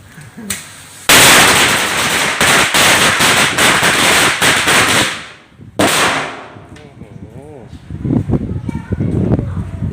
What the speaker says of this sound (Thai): นี่นะครับเตรียมจุดนะครับ ผมหนึ่งพันนัดนะครับนี่ แก้บนในไข่นะครับหนึ่งพัน จุดเลยครับ